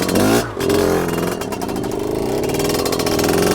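A Fantic two-stroke twin-shock trials motorcycle engine runs close and loud in wet weather, a steady buzzing idle with a short dip and then a sustained rasping throttle, no talk over it.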